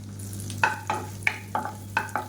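Garlic and ginger sautéing in butter in a pan, with a low sizzle under a steady hum and several distinct scraping stirs spaced through the short stretch, close by and without talk.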